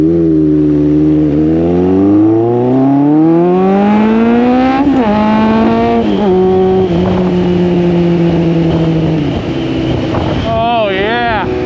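A 1986 Honda CB1000 Custom motorcycle engine revs loud and close, pitch climbing smoothly then holding high with wavering rises, heavy wind rumble throughout.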